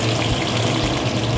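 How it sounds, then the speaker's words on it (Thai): Oil sizzles in a tilted frying pan on a home stove, a dense, steady hiss close by and alone for the whole short stretch. "เราจะเอียงกระทะให้น้ำมันมันขึ้นมาครอบเป็นข้างๆด้วยนี่ก็เป็นวิธีหนึ่งที่ทำให้มันสุกขึ้นมาได้มากขึ้น"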